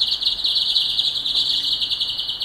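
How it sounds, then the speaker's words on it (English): Birdsong in the background: a steady, bright high-pitched chirping trill continuing without a break, fairly clear over a quiet low rumble. "Listen to those beautiful birds in the background as you breathe"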